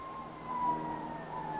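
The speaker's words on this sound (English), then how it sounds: "the siren this time is not to say that play is stopped anyway" Distant emergency siren wailing faintly beyond a golf course during a women's professional championship round, a steady high tone drifting slowly in pitch over a low outdoor rumble.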